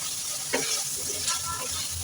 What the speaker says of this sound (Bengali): আমি সামান্য মশলা দিয়ে শসাগুলো সুন্দর করে মশলার মধ্যে কষিয়ে নিচ্ছি